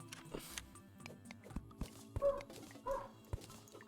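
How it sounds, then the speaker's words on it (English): A neighbor's dog barks outdoors, picked up faintly by an indoor microphone as scattered, distant yips and barks under light room noise, with a couple of louder barks near the middle. "Neighbor dog is losing his mind outside."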